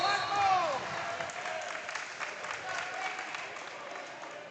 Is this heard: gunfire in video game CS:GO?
no